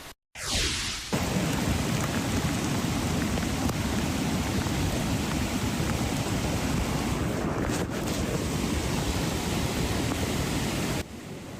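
Heavy rainstorm in Oak Glen, San Bernardino County, California, with flooding and mud debris flow: a loud, steady roar of pouring rain and rushing wind noise that holds for about ten seconds, then eases slightly at the end.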